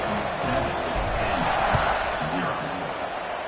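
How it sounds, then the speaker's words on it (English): Football stadium crowd at a game, a broad steady roar of many voices swelling after a kickoff, loud and continuous throughout. "this crowd now ready to get behind them"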